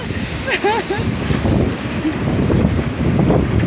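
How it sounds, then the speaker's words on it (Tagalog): Strong wind buffets the microphone in a steady roar, with a voice briefly speaking over it near the start. "Ang sarap na yung hangin!"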